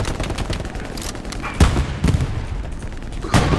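Grenade explosions and gunfire in the World War II shooter Hell Let Loose, a steady crackle of distant shots broken by two heavy booms, one near the middle and one near the end.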